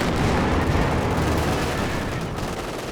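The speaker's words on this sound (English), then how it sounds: "I think that was just the regular Werfer barrages, not the officer." Rocket artillery barrage from Werfer launchers in Company of Heroes 2, a dense continuous roar of overlapping blasts and rumbling impacts, loud and sustained without pause, with no voices over it.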